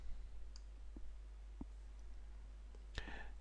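Several soft computer mouse clicks, spaced apart and fairly faint, sound over a low steady electrical hum, with a slightly louder click near the end.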